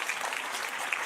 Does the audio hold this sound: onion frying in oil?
no